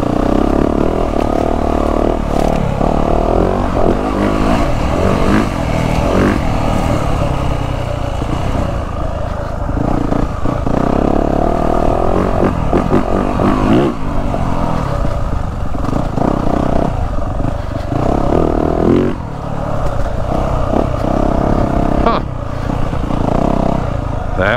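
A 2023 Yamaha YZ450F dirt bike, running a 350-style engine map, rides a wooded trail loop with a loud, continuous engine note that surges and eases with the throttle. Clatter and scrapes from brush and rough ground run throughout.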